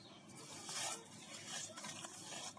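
Ripe mango mash being mixed with kasundi mustard sauce, soft wet squelching and stirring in continuous low swells, quiet and close, with no talk.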